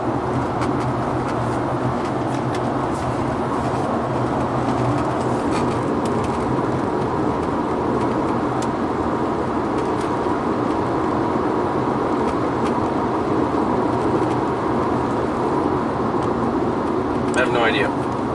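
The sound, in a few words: Honda Accord driving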